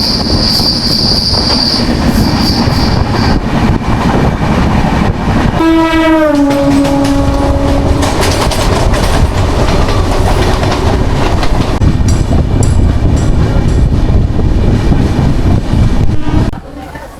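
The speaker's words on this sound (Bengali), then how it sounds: "এখনো পর্যন্ত ঠিক টাইমে চলছে ট্রেন" A passenger train running from Howrah to Digha rolls steadily on its rails with a loud, continuous rumble and wheel noise, and a brief horn-like tonal sweep rises from it midway.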